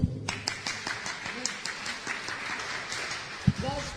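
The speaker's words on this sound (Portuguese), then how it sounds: "Uma salva de palmas para Paulo." A church congregation breaks into applause, with a dense patter of clapping hands continuing under a preacher's speech.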